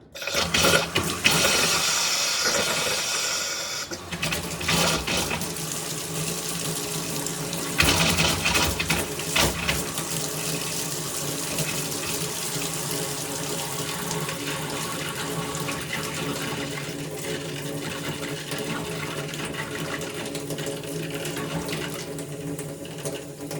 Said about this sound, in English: Open up the hot water until the air gets drained out of the system.